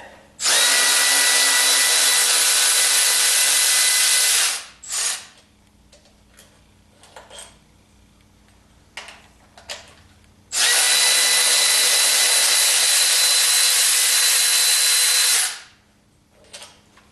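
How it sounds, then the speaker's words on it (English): Cordless ratchet loosening carburetor bolts on a 1976 Corvette, two long, loud steady whirring bursts of about four seconds each, separated by quieter clicks and handling noises. "Kind of nice not having to drag the air hose around to use the ratchet."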